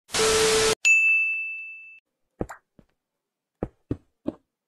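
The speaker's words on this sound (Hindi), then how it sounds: "किस बात का नोटिफिकेशन आ रहा है मेरे कैमरे से?" A notification chime from a camera: a short burst of noise, then a single clear ringing ding that fades out, followed by a few soft, scattered clicks and taps in near silence.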